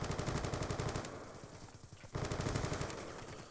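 A handgun in the Black Ops 2 video game fires rapid, evenly spaced shots in two quiet bursts separated by a short pause, with no talking.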